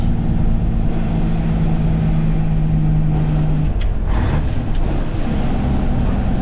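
A 1988 Mack DM dump truck hauling dirt, with a 275-horsepower diesel, 11R22.5 tires, 44 rears and a 13-speed double overdrive, shifts gears. A loud, close cab drone carries a steady whine that drops away midway as the gear changes.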